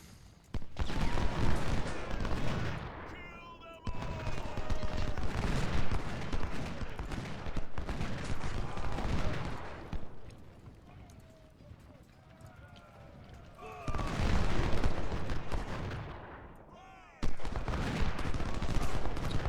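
Musket volleys and scattered rifle shots crackle from units firing in a Civil War battle video game, in loud bursts separated by quieter stretches, with someone talking over much of the fighting.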